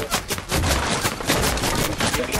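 Rapid gunfire in a Fortnite match, a dense run of loud overlapping shots and bursts with no pause across the clip.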